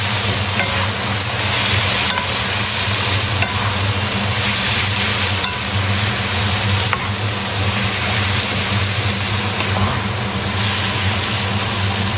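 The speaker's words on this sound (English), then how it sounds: "Give these a stir." Steak fajitas sizzle loudly in a hot pan while being stirred, a dense continuous frying hiss with occasional scraping knocks, close up and without speech.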